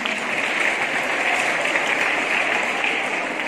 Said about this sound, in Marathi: आपण शुभेच्छा देण्यासाठी सुद्धा टाळ्या वाजवणार आहोत